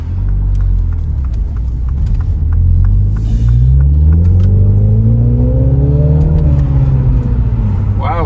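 A Mini John Cooper Works accelerates in sport mode, its engine note rising steadily in pitch through the gear, loud and close, with faint clicking and a brief voice near the end.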